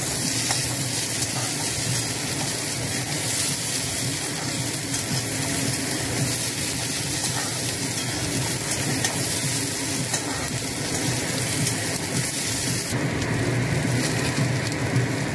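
Pieces of Bata fish sizzle and crackle steadily in hot oil with salt, a dense, continuous frying hiss close by that holds at a constant level throughout.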